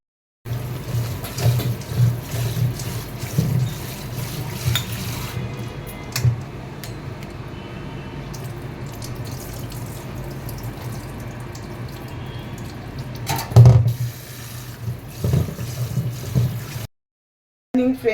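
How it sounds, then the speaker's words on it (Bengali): Lentils for mutton haleem being washed by hand in water: continuous splashing and swishing close by, with occasional clinks against the bowl, stopping briefly near the end. "সব ডালগুলোকে নিয়ে এবার ভালো করে ধুয়ে আমি ভিজিয়ে রাখবো"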